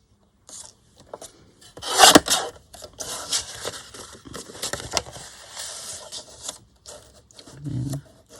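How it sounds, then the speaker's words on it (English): Blade or trimmer slicing through a book page, a sharp scraping cut near the start, then continued rubbing and rasping of paper being handled close by, with a brief low thump near the end. "I'll trim this off first."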